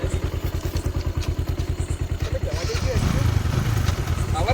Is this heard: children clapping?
no